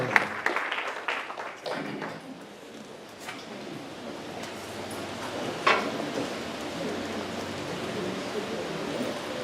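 A church congregation claps for the Lord during a Spanish-language worship service, a diffuse, moderately loud wash of hands that swells at the start and lingers as scattered clapping through the room.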